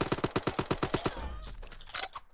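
Rapid automatic gunfire from a weapon in the egg-themed shooter game Shell Shockers rattles off in a quick, even burst of about a dozen loud shots, then gives way to softer clicks and mechanical clatter.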